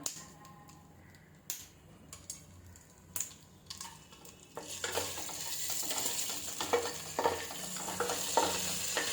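Fennel and poppy seeds stirred into a hot pan in a home kitchen, a few sharp utensil clicks and taps at first, then a steady sizzle with scraping stirs underneath, fairly quiet and close.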